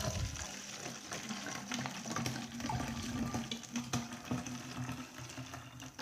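Vinegar poured into a container to make homemade fabric softener, a steady watery splashing and trickling stream running alone for several seconds.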